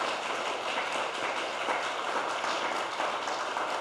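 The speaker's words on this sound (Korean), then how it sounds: "이 말에 공감하시면 하답으로 박수를 한번 보내주세요." Audience applause at a Buddhist meditation talk, a steady, dense wash of clapping that holds evenly from start to finish with no voices over it.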